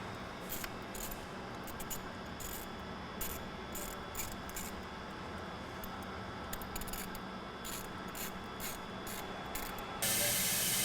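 Intake clamp being tightened on a 2.0L Ford Bronco Sport cold air intake install, heard as a run of quick ratchet clicks in short bursts, close and alone, ending in a brief louder scrape.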